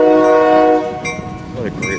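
An eastbound train approaches on the BNSF main line at Fremont, Nebraska, its loud multi-tone horn blaring close, then cutting off into rumbling wheels and rail noise.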